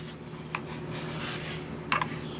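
A card scraper drawn across a wooden workpiece, a soft rasping rub with a couple of brief sharper scrapes, close and quiet over steady background hum.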